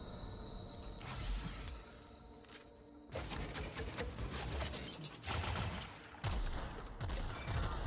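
Gunfire in The Outer Worlds video game, dense bursts of rapid shots and impacts arriving in several loud waves over a noisy game soundtrack.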